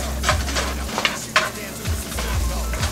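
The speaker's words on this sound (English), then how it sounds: "I'm just going to saute these up for a minute" Onions sauté in a pan with a steady, close sizzle, broken by brisk stirring and a few light scrapes and taps of a utensil, over a low hum from the stove.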